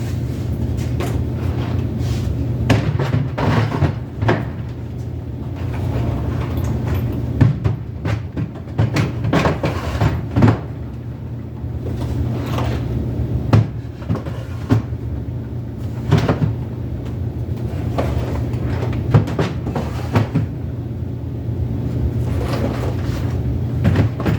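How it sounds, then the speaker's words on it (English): Plastic Harbor Freight storage bin drawers slide in and out of custom DIY racking, giving repeated scraping slides and clunks in a busy, uneven rhythm, close and fairly loud over a steady low hum. "Let's throw some drawers in and see how well it actually works."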